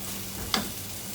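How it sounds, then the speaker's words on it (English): Lamb searing in butter in a pan over high heat: a steady, close hiss of frying fat with one brief clatter or stir midway, no talking. "it's high heat, but we want to reach a really nice color to sear beautifully the lamb"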